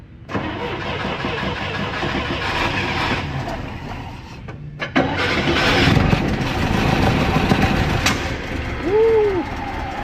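An International Scout 800 four-cylinder engine, fed gas through the carburetor and boosted by a jump pack, cranks briefly, then catches and settles into a steady, fairly loud running rumble, with voices briefly heard nearby.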